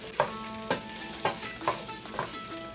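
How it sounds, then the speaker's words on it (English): Garlic stirred in a hot pan for manicotti meat sauce, a steady close sizzle broken by about five sharp scraping strokes of a utensil at even intervals, with no voices. "I'm going to mix in the garlic."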